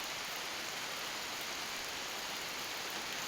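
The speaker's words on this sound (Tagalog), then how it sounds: "Kasi umuulan." Steady, even rain falling outdoors, a dense continuous hiss of drops with no pauses or other sounds.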